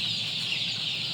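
A crowd of Adler chicks keeps up a constant shrill peeping, many small voices blending into one nearby, unbroken chirping wash.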